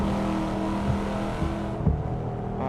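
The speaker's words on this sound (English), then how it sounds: "the engine is too loud" Race car engine in a sim racing video game, a steady, loud mechanical drone with held harmonic tones and brief surges, running continuously throughout.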